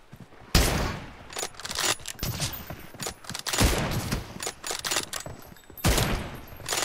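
Gunfire in the video game PUBG rattles in rapid automatic bursts, loud and close, with several sharp volleys separated by short gaps.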